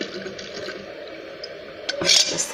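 Lemon-infused water poured out of a container, being emptied to make a strong lemon toilet freshener spray; a steady liquid trickle swells into a brief louder splash near the end.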